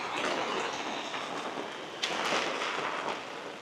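Wind and heavy rain during a monsoonal storm in Innisfail, Australia, a dense steady hiss of rainfall and gusting wind with one brief sharp crack midway, no one talking.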